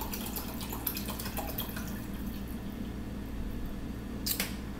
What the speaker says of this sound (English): I'm pouring the water into the coffee pot, people.